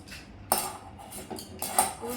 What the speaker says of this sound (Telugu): దీన్ని మనం మంచిగా కలుపుకుంటాము.